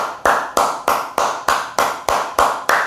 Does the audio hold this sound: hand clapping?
yes